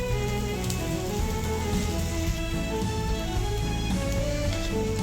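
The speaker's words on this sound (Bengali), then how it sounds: "মাছ ভাজা" Fish frying in a pan, with a close, steady sizzle and crackle holding evenly throughout and no talking.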